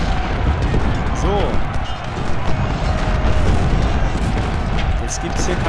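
Cannon artillery fire rumbles through a Malvern Hill battle in the strategy game Ultimate General: Civil War, a dense, continuous barrage of booms and blasts with someone talking over it.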